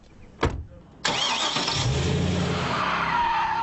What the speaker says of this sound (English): General Motors has asked Earnhardt to put the prototype through its paces in a place usually shielded from cameras.